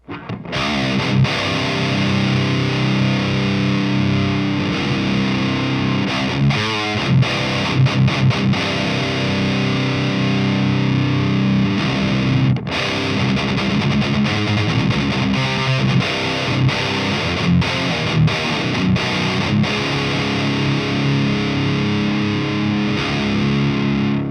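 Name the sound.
electric guitar through Amptweaker Tight Metal Pro 2 distortion pedal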